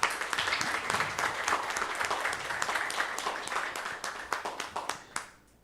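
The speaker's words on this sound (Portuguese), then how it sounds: "Uma salva de palmas, professora." Audience at a municipal chamber conference in Extremoz breaks into sustained applause, dense and steady throughout, with claps thinning and fading out near the end.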